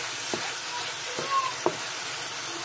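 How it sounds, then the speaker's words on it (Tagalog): Chicken sizzles in a pan with broccoli and tofu as it is stirred, a steady frying hiss with a few soft knocks of the utensil against the pan. "Haluin lang ng haluin natin mga kayaw."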